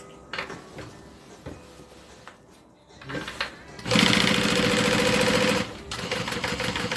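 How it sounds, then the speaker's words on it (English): A sewing machine stitches through layers of fabric for a notebook holder, starting with a few short clicks and then a loud, rapid, sustained run of stitching for under two seconds, followed by quieter handling noises. "all I'm going to do is sew around the outside where I marked where the pattern is"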